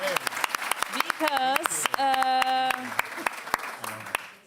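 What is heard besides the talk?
audience applause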